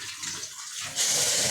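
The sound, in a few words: hot water being poured into a cooking pot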